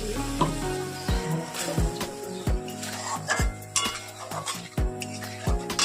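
Onions and pre-fried potatoes sizzle in a pan while a metal spoon scrapes and clinks against it in steady repeated strokes, close and fairly loud, with no talking.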